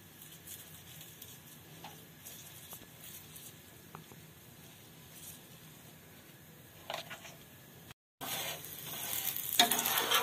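Cauliflower paratha on a griddle, quiet faint crackle at first, then after a short gap a loud, bright, continuous sizzle as desi ghee hits the hot pan.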